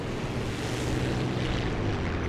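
Propeller-plane drone over War Thunder battlefield noise, a steady broadband roar with low rumble throughout, fairly loud and continuous, no distinct blasts standing out.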